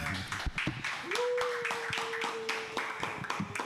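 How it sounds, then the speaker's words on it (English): Small audience at a talk on somatics clapping after the speaker finishes, scattered near claps of modest density with a whistle running through, fairly quiet. "Round of applause, guys."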